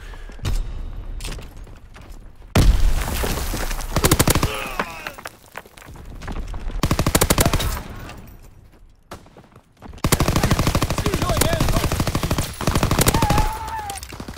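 Bursts of machine gun fire crackle in rapid rhythmic volleys during a World War II video game battle, loud and close, with heavy booms and lulls between strings of shots.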